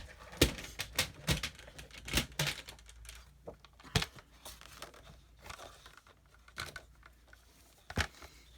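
Sharp, irregular snips and crinkles from a sheet of cardstock being cut to size for card making, a loud cluster of crisp broadband clicks early on, then quieter scattered cuts and rustles with no talking.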